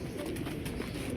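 Pigeons from a Faisalabad flock coo softly amid a dense, rustling background, low and muffled over a single second, with no clear speech.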